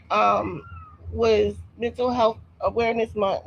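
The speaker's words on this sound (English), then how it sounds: "That's my cat." A pet cat meows repeatedly at close range, several drawn-out cries in a row, while a person talks over it.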